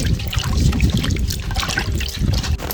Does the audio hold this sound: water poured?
yes